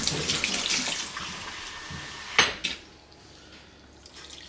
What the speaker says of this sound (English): So I just keep the warm water going.